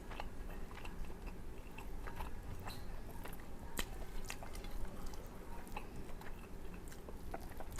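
Someone chewing a mouthful of stir-fried papaya flowers up close, with steady wet crunching and squishy bites repeating throughout, no talking.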